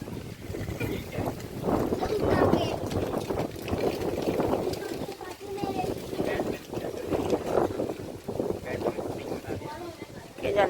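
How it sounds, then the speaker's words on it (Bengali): Strong wind buffets the microphone in steady gusts outdoors, with people talking over it throughout. "দেখো কেমন হাওয়া ছেড়েছে"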